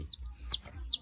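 A young chick peeps three times in quick, evenly spaced high chirps, close and fairly clear over a low background rumble.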